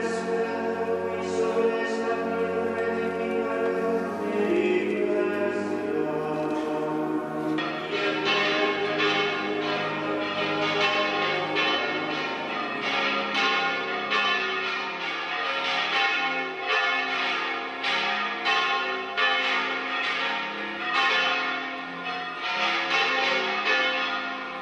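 Cathedral bells peal at Burgos Cathedral of Santa María during the blessing of a new bell, a loud, continuous clangour of overlapping strikes ringing out steadily, with no talk over it.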